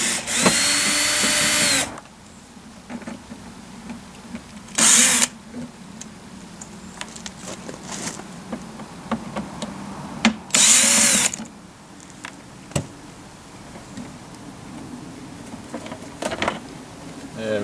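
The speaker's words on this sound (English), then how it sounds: "Take these screws out." A power drill runs in three short loud bursts, backing T15 screws out of the plastic cover of a Whirlpool/AEG tumble dryer, with clicks and handling sounds between runs.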